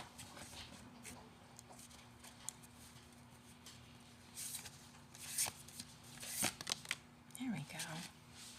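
Soft riffling and flicking of cards being shuffled, with scattered light clicks and a brief voice murmuring in the background.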